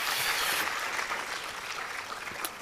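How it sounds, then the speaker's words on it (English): Audience applause fills a conference hall at a global sustainable food systems session, a steady wash of clapping at moderate level that thins slightly toward the end, with no voices over it. "A round of applause"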